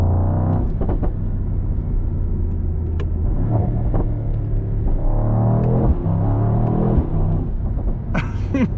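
A 2024 Mercedes-AMG GT63 two-door GT with V8 engine being driven, a deep, loud rumble that swells and eases with throttle, plus occasional clicks and a sharp high-pitched sound near the end.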